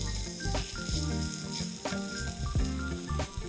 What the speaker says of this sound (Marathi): कांदा ट्रान्सल्युसंट होईपर्यंत परतून घेऊया.